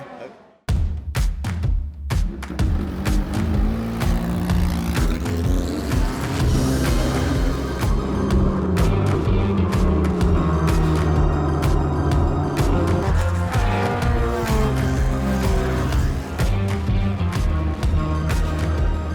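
A race car is driven hard on the Zwartkops circuit during a Passion for Speed motoring event. Its loud, sustained engine roar carries on steadily for the whole stretch with no talk.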